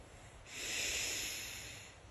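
A single drawn-out sniff, a breathy intake of air through the nose lasting over a second, close and fairly quiet.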